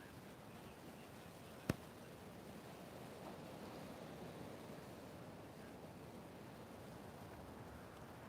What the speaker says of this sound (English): just start to tune into the sound of the ocean here, those waves rolling in.